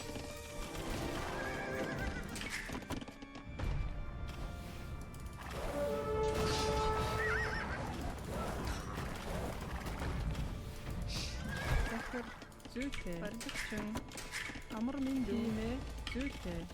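Cavalry charging in the Age of Empires strategy game, with horses whinnying repeatedly and hooves clip-clopping in a dense, continuous battle din, while someone talks over it.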